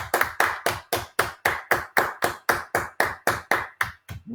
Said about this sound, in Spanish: ¡Aplausos para Cristo!